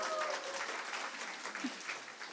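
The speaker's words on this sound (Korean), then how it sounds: "박수 한번 쳐주세요, 여러분." Applause from a Korean church congregation during a Sunday sermon, a steady, even wash of many hands clapping at a moderate distance with no voices over it.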